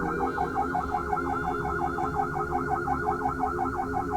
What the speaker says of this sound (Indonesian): Dengar sirine ambulans macam mana